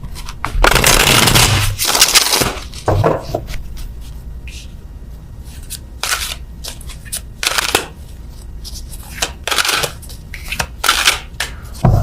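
Tarot cards are shuffled in repeated bursts of riffling and slapping, loud and close, with brief pauses between handfuls and no talking.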